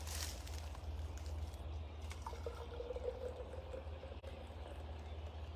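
Coffee is poured into a cup, a soft steady liquid stream rising slightly in pitch as it fills, heard faintly over a low room hum.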